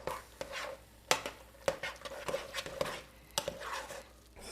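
Stuffing ingredients with milk stirred in a pot on a Thanksgiving stovetop, giving irregular scraping and clinking knocks of a spoon against the pot, fairly close and moderately loud, with no speech.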